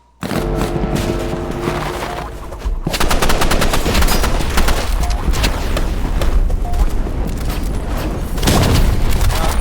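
Rapid machine-gun bursts and heavy booming RPG explosions in a shooter video game, loud and nearly continuous, with a brief quieter stretch before the firing intensifies.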